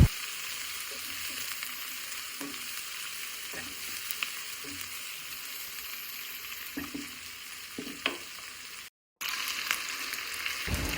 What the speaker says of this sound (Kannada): ಅಷ್ಟು ತನಕ ಫ್ರೈ ಮಾಡಿಕೊಂಡ್ರೆ ಸಾಕು.